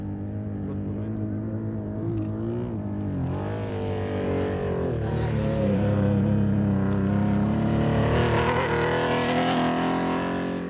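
A BMA Porsche rally car drives a rally stage, its engine note loud and close, droning steadily with rising and falling pitch across the whole stretch.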